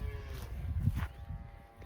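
Cattle on a farm offered for sale give a low, soft moo close by against a murmuring rural background, with no speech over it.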